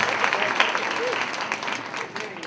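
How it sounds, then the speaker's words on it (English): Applause from a college conference audience honouring a student musicians' collective, a steady dense patter of clapping throughout with a voice faintly underneath. "can we give a round of applause to the Macaulay Musicians"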